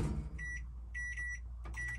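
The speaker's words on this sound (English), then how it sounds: "into the microwave for another 44 seconds" A microwave oven in a camper van heats rice and eggs, with a low steady hum and a series of short electronic beeps.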